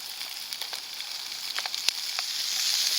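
Potatoes fry in a pan set on campfire embers at an outdoor bivouac, with a steady close sizzle, scattered sharp crackles and pops, and the hiss growing slightly toward the end.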